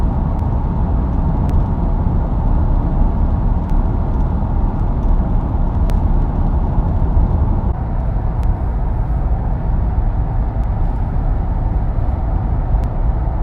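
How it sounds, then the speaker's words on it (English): Steady, low rumbling road noise inside a car moving at about 60 mph on the highway, a constant broadband roar with faint occasional clicks and no talking. "we're doing 60 miles an hour now, so you get a sense of the ambient sound in the car"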